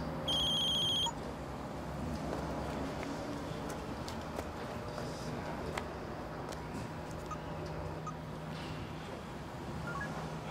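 A telephone rings with a short electronic trill at the start, then gives way to quiet room noise with faint background sounds.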